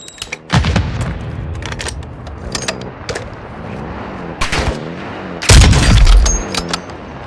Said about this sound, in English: Semtex down.